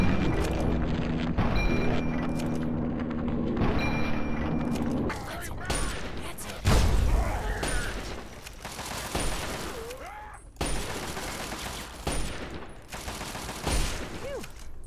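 Explosions from a rocket launcher and bursts of gunfire in the Fallout 3 video game, loud repeated booms and crackling shots filling the scene, with a voice talking over parts of the battle.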